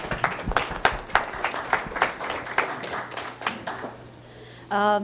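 An audience at a panel discussion event on teens applauds, a dense burst of clapping with rhythmic peaks that gradually thins out and fades, followed by a brief voice at the end.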